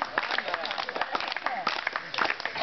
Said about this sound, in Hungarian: taps, tapsolunk ütemesen, ugye?